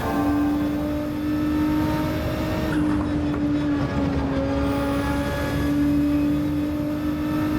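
Car engine in Gran Turismo droning steadily at high revs, loud and close, with a brief shift in pitch partway through as the car keeps driving.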